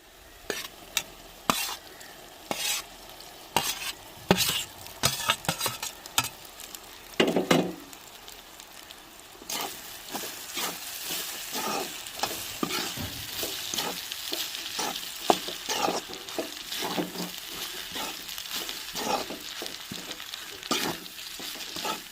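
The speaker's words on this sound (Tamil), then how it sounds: "இந்த மசாலையோடய சாப்பாட்டையும் போட்டு பெரட்டி எடுத்துருவோங்க" Cooked rice being stirred and tossed with okra masala in a hot pan, with repeated scraping strokes over a steady sizzle that builds and stays close and clear throughout.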